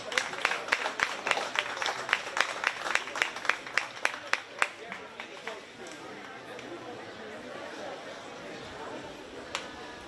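Kids at a county fair 4-H sheep and goat show get a burst of crowd applause, sharp claps over the first few seconds that taper into a steady murmur of chatter from the stands.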